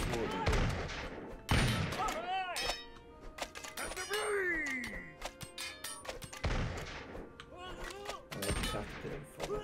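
Musketeers in Totally Accurate Battle Simulator fire ragged volleys, with sharp musket cracks bursting in irregular clusters over several seconds, mixed with chirpy battle effects and quieter gaps between salvos.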